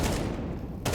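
Rapid bursts of gunfire in a Counter-Strike match on the Nuke map during an IEM Dallas 2024 game, a dense, loud volley that fills the moment and cuts off briefly just before the end.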